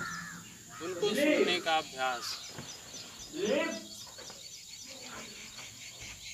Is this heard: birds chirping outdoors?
yes